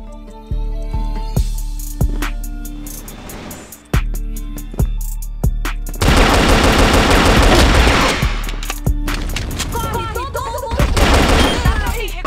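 An AK rifle fires in an online shooter game: loud, close single shots and short bursts at first, then a dense sustained fusillade with rapid overlapping cracks.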